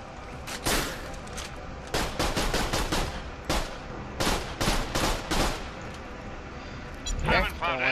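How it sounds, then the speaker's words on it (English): Burst-fire gun shooting in the video game Borderlands: The Pre-Sequel, several loud rapid bursts of gunfire in quick succession, close and punchy, with brief gaps between volleys. "I hate the burst fire when zoomed."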